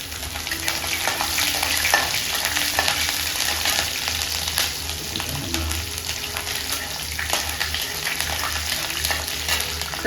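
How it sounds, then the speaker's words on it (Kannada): Chana dal and green chillies fry in oil in a pan with a steady, close crackling sizzle, while stirring scrapes and clicks come through at intervals. "ಕಡಲೆಬೇಳೆ ಚೆನ್ನಾಗಿ ಫ್ರೈ ಮಾಡಬೇಕಿದು."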